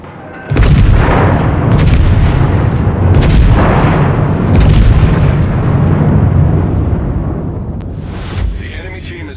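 Naval guns boom through a video game sea battle, heavy overlapping blasts rolling one into the next at close range, a dense continuous barrage that eases toward the end.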